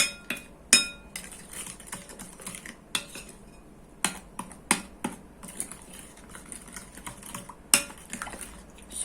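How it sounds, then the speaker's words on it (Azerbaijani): A utensil stirs a yeast mixture in a bowl, giving repeated sharp clinks and scrapes against the sides at an uneven rhythm, close by with quiet pauses between strokes. "Yaxşı-yaxşı belə qarışdırırıq ki maya açılsın"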